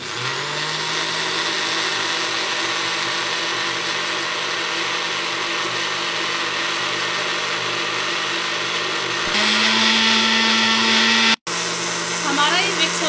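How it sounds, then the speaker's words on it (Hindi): A mixer grinder whirs loudly and steadily while blending khandvi batter with salt and turmeric, its motor pitch shifting near the end, cutting out briefly, then starting again. "अब इसे हम मिक्सी से मिक्स कर लेंगे।"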